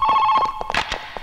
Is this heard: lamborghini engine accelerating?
no